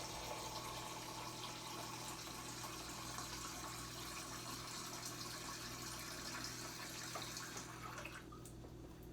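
Tap water runs steadily into a measuring cup for homemade almond milk, a constant close gush and splash that shifts and thins near the end as the flow stops.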